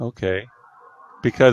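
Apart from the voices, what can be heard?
None of the usual background noises is heard.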